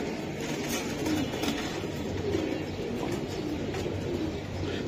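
Racing pigeons from imported foreign stock coo in a loft, a dense low murmur of overlapping calls that runs steadily throughout at moderate loudness.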